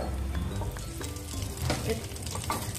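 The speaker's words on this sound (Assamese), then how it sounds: "অকণমান তেল দিছোঁ একেখন কেৰাহীতে ভাজিছোঁ" A little oil frying in a wok, a steady close sizzle with stirring scrapes running throughout.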